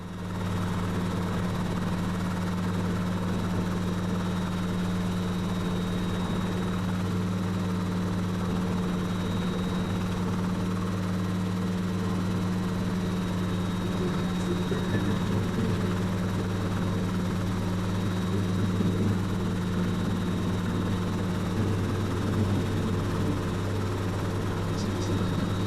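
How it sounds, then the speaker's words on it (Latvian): A helicopter on its first test flight lifts off, its steady rotor and engine drone loud and continuous throughout, with a constant low hum and whine close by. "pats pirmo reizi vadot helikopteru esmu atrāvies no zemes"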